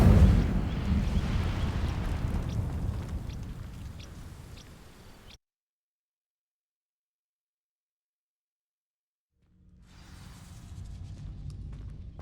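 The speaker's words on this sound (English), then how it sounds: "These dry vines are one spark away from becoming kindling. Incendio!" An Incendio fire spell igniting dry vines in Hogwarts Legacy starts with a loud whooshing burst that fades over about five seconds. Silence follows, then a quieter sound returns.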